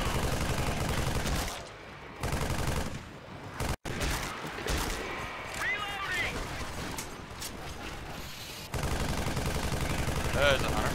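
Gunfire in the video game Left 4 Dead 2, with rapid bursts and dense shooting running almost throughout, loud and layered with game noise, while players talk over it.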